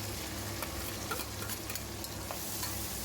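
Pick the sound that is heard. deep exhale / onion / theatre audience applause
onion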